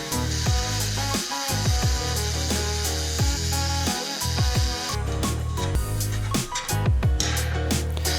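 A small metal nibbler chews along a flashing strip in rapid, continuous bursts, loud and close, with brief pauses between cutting passes and a harsh buzzing texture throughout.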